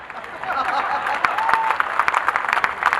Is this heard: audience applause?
yes